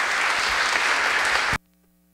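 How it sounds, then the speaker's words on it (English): An audience at a talk on poverty and church teaching claps to welcome the speaker, the dense, even applause holding steady for about a second and a half before cutting off abruptly into silence. "Applause is always much more welcome at the end of talks than at the beginning of talks."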